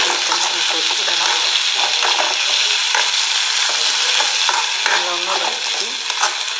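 Vegetables with beans, turmeric and salt sautéing in a pan for vegetable upma give a loud, continuous hiss of frying right up close, broken by light stirring scrapes throughout.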